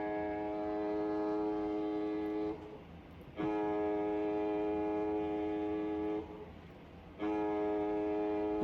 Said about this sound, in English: if you don't know what a foghorn sounds like, these are in harbors